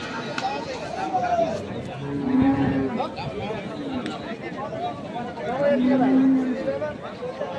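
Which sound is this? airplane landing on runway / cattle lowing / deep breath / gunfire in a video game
cattle lowing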